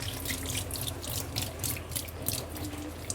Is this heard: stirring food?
no